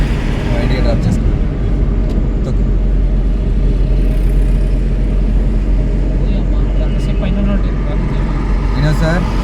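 A car crawls through a traffic jam stretching to a bridge, with a steady dense roar of engines and road noise all around. Occasional horn-like tones rise from the rumble, and the traffic is loud and continuous.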